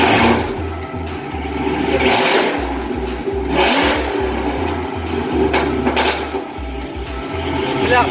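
A Dodge Charger Hellcat's supercharged engine cold-starts on a dyno with a loud, lumpy idle and uneven low pulses, rising in brief revving swells.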